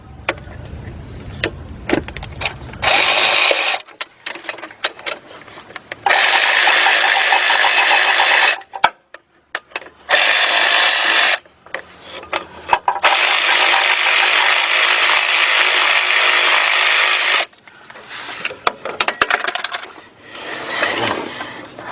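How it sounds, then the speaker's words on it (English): A big ratchet works loose a motor mount bracket bolt on a 2007-2017 Lexus LS460 during starter replacement, with long loud stretches of rapid ratcheting clicks broken by pauses and scattered metallic knocks, close up. "So I'm gonna get my big bill ratchet up in there."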